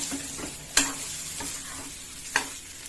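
Fried masala idli pieces are stirred in a frying pan over a steady sizzle, the spatula scraping and tapping the pan a few times at irregular intervals, close and fairly quiet, with no talking.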